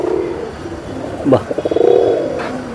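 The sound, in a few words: pigeons cooing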